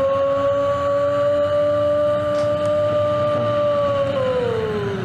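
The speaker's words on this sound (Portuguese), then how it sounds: "aumentando o giro do motor" MX2 motocross bikes at the start gate of a BRMX race in Faxinal hold their engines at high revs in a loud, steady, whining drone that sags in pitch near the end, with no voices.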